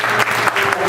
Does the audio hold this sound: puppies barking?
no